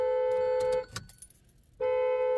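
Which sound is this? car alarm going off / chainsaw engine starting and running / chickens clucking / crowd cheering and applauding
car alarm going off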